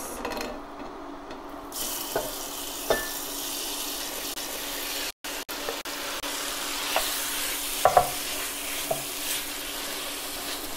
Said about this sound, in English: I'm going to brown the marinated lamb pieces in this oil and seal all the flavors.